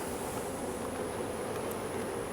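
Honey bees swarm over comb frames lifted from a hive that may have lost its queen, a continuous close buzzing drone that stays level and unbroken for the short stretch.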